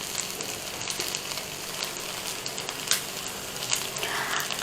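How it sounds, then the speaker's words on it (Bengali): Boiled vegetables stirred into sizzling Jamaican rice with shrimp and chicken in a hot pan: a steady, dense frying crackle throughout, with occasional louder scrapes and stirring ticks, close and alone. "এখন আমরা এতে সিদ্ধ করে যে রেখেছিলাম সেই সবজিগুলো দিয়ে দিব এবং সুন্দর মতো মিক্স করে নেব।"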